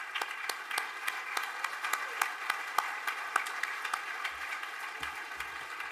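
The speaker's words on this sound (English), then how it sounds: "Give them a round of applause." Scattered hand claps ring out for directors and district committee men standing to be recognized at a chairman's banquet, sparse and irregular rather than a full ovation, moderately near and steady across the stretch.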